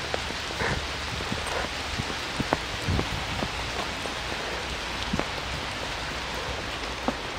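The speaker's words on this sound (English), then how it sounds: "here we're in the park, in the deserted park in the rain" Steady rain falls over a deserted park, a dense, even patter of drops with occasional louder nearby splats and no voices.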